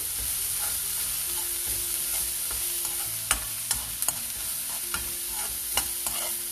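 Chopped coriander and pepper powder being stirred into a poha and curd mixture: continuous close stirring with a soft sizzling hiss and a few sharp clicks of the spoon against the vessel.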